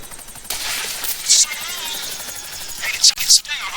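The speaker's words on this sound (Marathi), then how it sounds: "तर त्यांचे हेलिकॉप्टर पण आले" Helicopter rotor drone in the video game GTA V, a continuous whirring under game sounds with brief bright bursts like gunfire; a person talks over it.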